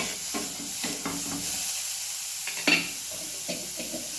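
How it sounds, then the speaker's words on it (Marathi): Finely chopped onion frying in oil in a pan, a soft steady hiss with intermittent scraping stirs and one sharper clatter, no talking. "आता ह्यातच टाकूया बघा बारीक चिरलेला कांदा कांदा चांगला भाजून घेऊया"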